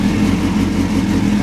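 A Yamaha 1000 track bike with a Yoshimura muffler idles close by, a steady low, even engine rumble with no pauses.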